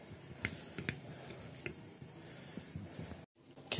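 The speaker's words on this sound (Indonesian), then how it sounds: "Seterusnya kita masukkan kita punya tulang rusuk lah ke dalam air untuk direbus." Pork ribs dropped into water in a pot for boiling, a series of faint wet squishing plops and soft knocks spread out over a few seconds.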